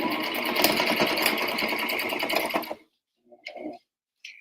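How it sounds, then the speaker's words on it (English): Sewing machine back stitching the corner of a fabric pocket on an apron, a close, loud, fast mechanical whirr for about two and a half seconds, then stopping, followed by brief quiet handling sounds. "I'm going to back stitch it a few times as well"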